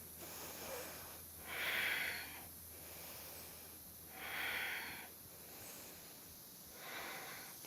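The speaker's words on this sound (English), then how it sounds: "Breathe for 3 with me." Slow, deep breaths during a power yoga flow, three long airy inhales or exhales spaced a few seconds apart, close and soft over a faint steady background hum.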